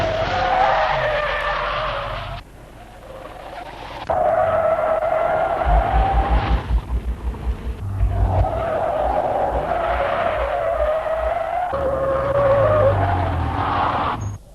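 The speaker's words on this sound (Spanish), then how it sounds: "bruscos frenazos que producen normalmente el bloqueo de las ruedas delanteras o traseras y dan lugar a derrapes" A car brakes hard with its wheels locking, and the tires skid and squeal in several loud bursts separated by short pauses, some with a low rumbling judder beneath.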